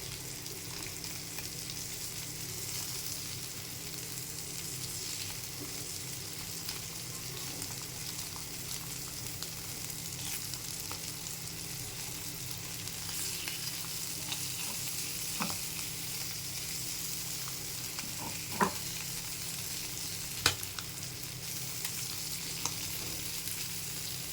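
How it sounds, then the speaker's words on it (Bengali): Puti fish frying in a little oil in a hot frying pan give a long, continuous sizzle close by, with a few sharp spits and pops rising from the steady hiss. "ফ্রাই প্যান গরম হয়ে গেছে, 1 টেবিল চামচ তেল দিয়ে মাছটা ভাজা দেবো"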